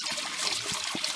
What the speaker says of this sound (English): It's bubbling, the water going down to the cylinder.